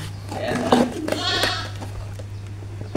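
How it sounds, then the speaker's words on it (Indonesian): A goat bleats once or twice fairly close by, a wavering nasal cry over a steady low hum, with a person talking around it during scooter electrical repair. "ada suara kambing"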